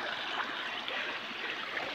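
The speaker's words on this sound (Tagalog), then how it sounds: "Yan na ang ilog na ating papaliguan sa sunod." A clear river flows over stones in a steady, continuous rushing hiss, close and even, with no voices.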